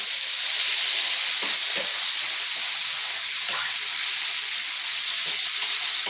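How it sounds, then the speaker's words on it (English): Filet mignon sizzles loudly in a frying pan, a dense continuous hiss and crackle with a few soft clatters as the steak is flipped over. "let's flip my filet mignon"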